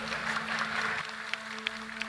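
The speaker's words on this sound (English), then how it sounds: "I want you to give him another round of applause" An audience at a birthday Ramayan yagna gathering claps, a brief burst of applause that fades after about a second into a faint room hum with a few scattered claps.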